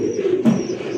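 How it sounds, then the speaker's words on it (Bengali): A pair of Rasgolla pigeons at a pigeon market cooing, a short low throaty coo rising briefly in the middle of a quiet, steady background. "দেখার মতো একটা কবুতর, দেখছেন লাল টকটক একটা জোড়া রাসগোল্লা ভাই"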